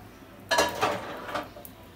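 A cooked egg bread is slid from a pan onto a plate, giving a brief scraping clatter of cookware followed by a couple of lighter clinks that fade out.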